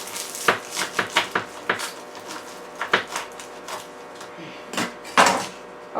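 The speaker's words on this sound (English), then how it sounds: "So let me just cut it in half." A knife cuts through a Jamaican mild beef patty, reheated in microwave and oven, producing a series of crisp crunchy pastry crackles and cuts up close, with a few louder clicks later on.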